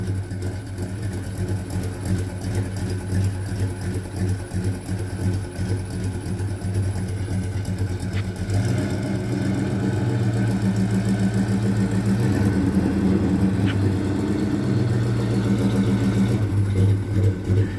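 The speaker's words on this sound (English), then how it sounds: "This is the first time Mrs. PIB's drove this truck" A 1984 Chevy C10 pickup truck without power steering or power brakes runs close by with a steady, buzzy engine drone. The pitch and loudness lift partway through as the truck is moved, and no one speaks.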